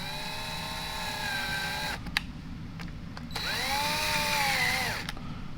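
A power driver whines in two short runs while starting screws into the housing of a Matco MT2112 3/8-inch air impact. Each run rises and falls in pitch, separated by brief clicks and a pause.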